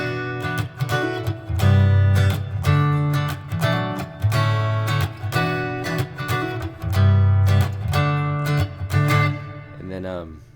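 Strummed guitar chords with small hammer-on flourishes, played in the style of a pop song, ring out in a steady rhythmic pattern, close and full, before a brief fading run at the end.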